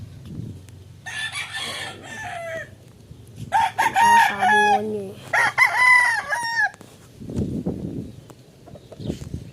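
A rooster crows loudly twice in long, rising-and-falling calls, with a few clucks and someone speaking briefly near the end.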